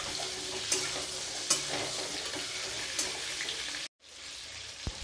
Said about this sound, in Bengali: দিয়ে দিচ্ছি কেটে রাখা ফুলকপির টুকরোগুলো। এবার একটু নেড়ে চেড়ে নিচ্ছি।